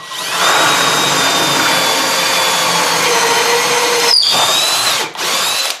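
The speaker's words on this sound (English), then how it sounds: "we want to take this bit here and we want to put a fresh 3/4 inch hole right here" An auger drill bit powered by a drill bores a 3/4 inch hole into wood. The loud, steady whine runs for about four seconds, then breaks off and returns briefly for two short bursts.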